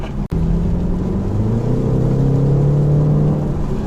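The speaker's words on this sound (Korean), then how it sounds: "배기 사운드 나오네요." A BMW 530e plug-in hybrid, switched into sport mode, gives off a continuous synthetic exhaust tone that rises in pitch as the car pulls away, close and fairly loud.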